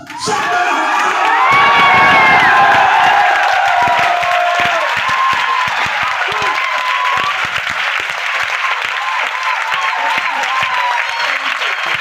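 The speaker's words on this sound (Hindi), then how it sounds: "अगर आपको अच्छा लगे तो मैं चाहूंगा आप खड़े होकर पूरे शोर के साथ तालियां बजाइएगा।" A standing audience at a motivational talk claps loudly and cheers in a dense, sustained roar, with shouts and whoops rising early and then settling into steady applause.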